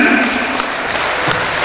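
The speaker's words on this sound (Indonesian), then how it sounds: "Selesai, tepuk tangan untuk semua pasangan." Audience at a 2015 Dumai mayoral candidate public debate applauds all the candidate pairs, a dense, loud burst of clapping filling the short moment, with a voice briefly over it at the start.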